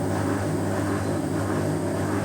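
An Ariston washing machine runs after its motor and carbon brushes were replaced, giving a steady droning hum with a low tonal whine, close and continuous with no talk.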